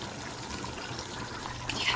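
Water trickles and pours while rice is being cooked, a soft continuous liquid splashing heard close and fairly quiet for a couple of seconds.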